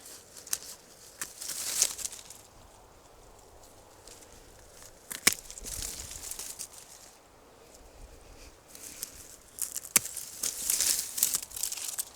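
Raspberry canes being snipped at the ground and pulled from a crowded garden bed, with repeated rustling, crinkling and snapping of stems in irregular bursts, close by with no talking.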